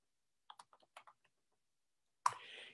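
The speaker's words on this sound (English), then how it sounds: "So type in the business name" A computer keyboard clicks as a business name is typed in, a quick burst of several close, distinct keystrokes in a quiet room, then a short clattering sound after a pause.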